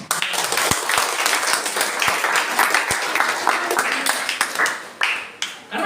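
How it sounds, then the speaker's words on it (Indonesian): A church congregation claps through a sermon on tithing, a steady, loud round of many hands with sharper individual claps standing out, briefly dipping near the end before picking up again. "Oh, sedikit kali tepuk tangan."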